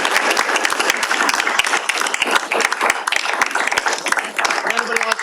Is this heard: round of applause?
yes